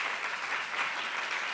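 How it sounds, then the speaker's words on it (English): An audience at an equity summit gives the moderators a round of applause, a steady, fairly faint crowd clapping throughout with no speech over it. "You can give them a round of applause."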